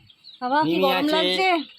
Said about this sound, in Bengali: পাখি আছে ওখানে পাখি আছে এখানে মুরগি আছে